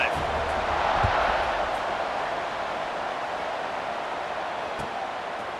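A stadium crowd roars steadily and continuously at a college football game in EA Sports College Football 26 around a kickoff, a dense, wide wash of cheering noise that eases slightly over time.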